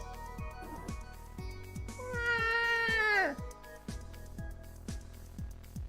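A person imitating a cat meowing to wake someone up gives a drawn-out, wavering meow that rises and falls, set over a steady rhythmic ticking background.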